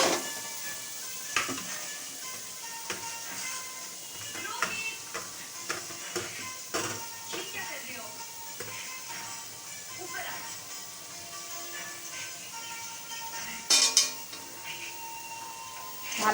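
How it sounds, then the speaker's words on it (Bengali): Boiled, deboned fish is stirred in a hot pan with a soft sizzle, broken by repeated scrapes and metallic clinks of a utensil against the pan, with a sharper clatter near the end. "ভালো করে নেড়ে নেব মাছটা।"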